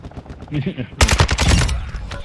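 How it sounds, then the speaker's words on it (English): Bursts of rapid automatic gunfire in a Call of Duty DMZ match, loud and close, opening with a sharp volley after a quieter start and continuing as dense repeated shots. "Gunfire. That was me."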